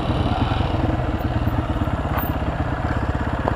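Honda XR80 dirt bike being ridden nearby, a steady rapid engine putter with a low rhythmic pulse and mechanical clatter, moderately loud and continuous for a few seconds.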